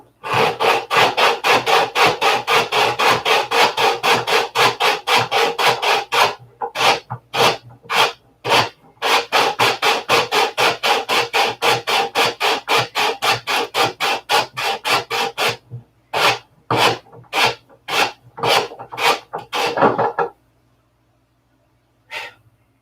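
Sandpaper is rubbed back and forth in fast, rhythmic strokes, making a close, loud rasping sound. The strokes come in long bursts with brief pauses, then slow to separate swipes before stopping.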